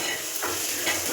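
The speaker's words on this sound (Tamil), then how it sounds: "இப்போ நம்ம வெங்காயத்தை வதக்கிட்டோம்." Onions sizzle and hiss steadily in a hot pan, sautéing for fish curry, with faint stirring scrapes and no voices.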